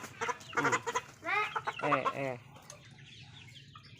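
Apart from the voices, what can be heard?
chickens clucking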